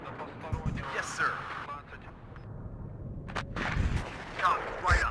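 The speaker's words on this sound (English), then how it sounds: "You see the artillery coming in here and the cluster strike." Artillery and cluster-strike fire from the WARNO strategy game, a series of sharp booming explosions and crackling blasts spread across the clip, with one burst near the middle and heavier impacts toward the end, under talk.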